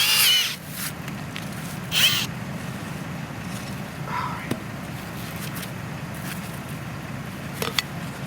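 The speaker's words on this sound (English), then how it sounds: "Gonna have to use the drill." Power drill boring into frozen ground while setting fox traps in snow, a low steady grinding whir running throughout under wind and handling noises, with a few brief sharp clicks.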